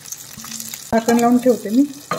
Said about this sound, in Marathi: हा मासा फ्राय करून घ्यायचा आहे, डीप फ्राय करायचं नाही, जास्त ऑइल पण वापरायची काही गरज नाही।